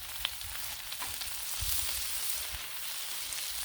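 Bacon fries on a Blackstone outdoor griddle, a soft continuous sizzle with faint crackles and a few low scraping bumps as the strips are moved, quiet and close.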